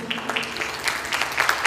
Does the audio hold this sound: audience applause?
yes